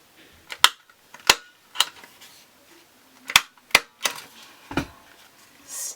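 A scrapbook layout being stapled, heard as a series of sharp, isolated clacks and snaps at irregular intervals, close but fairly quiet, with no talking.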